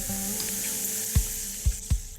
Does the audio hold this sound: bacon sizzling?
yes